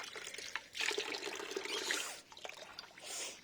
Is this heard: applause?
no